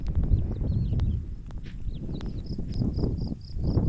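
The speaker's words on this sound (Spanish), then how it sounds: "acompañadas del canto de los grillos" Crickets chirp in a spring field with poppies, giving repeated short high trills over a steady low rumble of outdoor noise, faint and a little distant.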